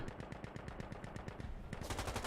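Rapid bursts of automatic gunfire in a video game match, a fast rhythmic rattle that thickens into denser shooting near the end.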